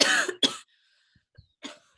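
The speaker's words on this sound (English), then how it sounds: "Why are you coughing" Two harsh coughs close to the mic, followed by a few faint, soft breaths and a smaller cough-like sound.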